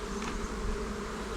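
Bees buzz steadily around a honey frame in an apiary on a warm day, a dense, close, continuous drone with no voices.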